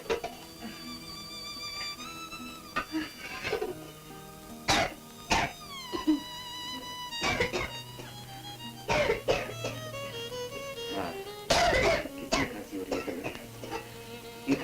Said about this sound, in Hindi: ऐसी खांसी तो होती रहती है बेटा